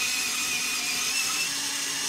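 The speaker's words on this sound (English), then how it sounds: "Just got to sharpen this pencil." A pencil grinds continuously in a sharpener, a steady high-pitched buzzing whir that holds unbroken throughout, close and fairly loud with no talking.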